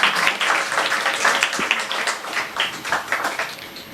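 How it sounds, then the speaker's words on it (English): Audience applause for performer Kirti, many hands clapping in a dense, uneven patter that stays loud and close before thinning slightly toward the end. "So a big round of applause once more to Kirti."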